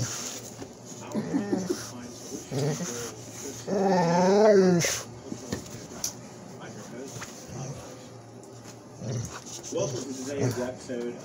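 A puppy growls and whimpers in short bursts, with one longer rising whine in the middle, close by while a person talks over and between the sounds.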